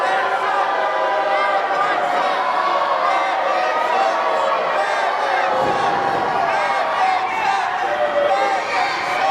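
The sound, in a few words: wrestling crowd jeering Macklin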